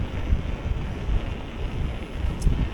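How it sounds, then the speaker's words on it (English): Strong wind buffets the microphone during a mountain bike ride near Wycoller, a steady low roar with gusty surges and no talking. "That wind's picking up now."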